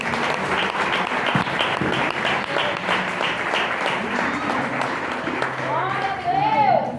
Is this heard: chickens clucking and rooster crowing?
no